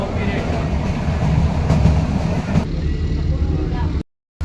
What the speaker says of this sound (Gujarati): તો સ્પીડ પકડી લીધી ટ્રેને પાછી હતી એવી ને એવી